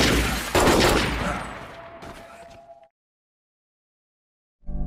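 Gunfire in a movie shootout between a prisoner and mafia gangsters near a car: a dense, loud burst of rapid shots for nearly three seconds, fading into silence before another loud hit at the end.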